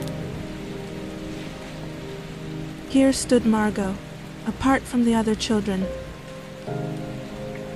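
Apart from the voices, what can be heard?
rain falling on Venus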